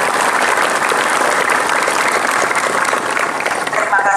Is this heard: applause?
yes